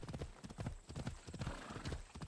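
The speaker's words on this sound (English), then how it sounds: "This is a nice horse, though." Rapid hoofbeats clatter in a steady galloping rhythm, with a brief whinny mixed in, fairly faint and close, from the video game Assassin's Creed: Odyssey.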